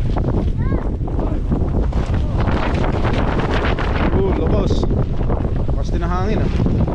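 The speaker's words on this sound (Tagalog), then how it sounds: "Lakas din ang hangin" Strong wind roaring and buffeting the microphone outdoors at Tagaytay, a constant loud rushing that covers everything, with brief faint voices under it.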